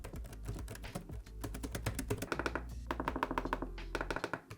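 Typing on the detachable keyboard of an UPERFECT UFREE V wireless portable monitor, its keys of varied sizes giving a steady run of close, fast clicky taps that cluster into bursts and briefly pause.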